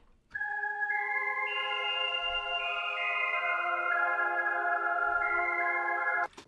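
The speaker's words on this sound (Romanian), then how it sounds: "După care avem acest cor." A choir sample for a beat holds layered sustained tones that step through shifting chords, smooth and moderately loud, then cuts off abruptly; no one speaks.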